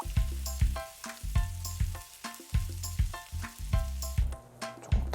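Hot oil bubbles and sizzles as starch-coated eggplant deep fries over high heat, broken by repeated low knocks and clanks from a utensil against the pot.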